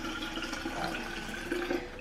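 Water poured from a kettle or jug into a cup for raspberry leaf tea, a steady close splashing trickle with a slight rise in level and no talking.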